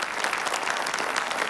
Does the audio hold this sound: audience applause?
yes